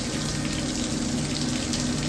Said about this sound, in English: those taps aren't holding, are they? There's a lot more water.